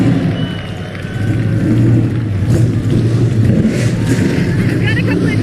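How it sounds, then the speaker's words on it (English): Stock car engines at an SRX race at Stafford fire up and rev, forming a loud, sustained motor roar, while a voice talks over the noise. "Drivers, start your engines!"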